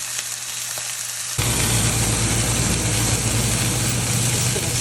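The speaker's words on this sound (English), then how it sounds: "all we need to do is just get the sear on it" Steak searing in a hot pan starts with a sudden loud sizzle after a quieter moment and then fries steadily and close for several seconds.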